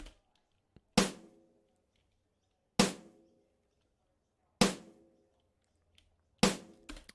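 Layered snare drum hits built from three samples, four evenly spaced cracks with bright, roomy reverb tails that ring out between strikes, isolated and fairly quiet.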